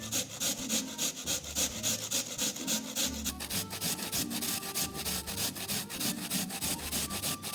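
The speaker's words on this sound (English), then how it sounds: "grate the peeled potatoes into fine shreds." Peeled potatoes are rubbed against a grater into fine shreds, giving a steady, rhythmic rasping scrape with regular back-and-forth strokes that is close and fairly loud throughout, with no voice.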